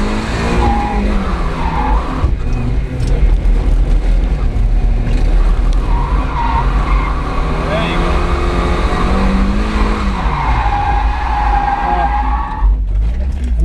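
A Mk1 Mazda MX-5 budget drift build sliding under a clutch kick, engine revving hard with sustained tire squeal and skidding close up, a driver's voice over it.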